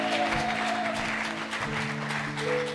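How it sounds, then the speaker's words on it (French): Faint applause and acclamation from a congregation at a church event, a steady wash of clapping under sustained music tones, fairly distant. "Est-ce qu'on peut l'encourager par des très bonnes acclamations?"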